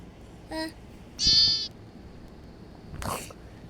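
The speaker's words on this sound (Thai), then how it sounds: "พาแกะมาแล้ว แล้วผมก็เพิ่งจะได้แกะมาเพิ่ม" Sheep in the Minecraft video game bleat in three short, separate game-sound bursts, the middle one the loudest and clearest, against a quiet background.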